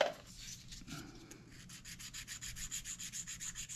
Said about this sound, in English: you can just use a sanding stick, get rid of the burrs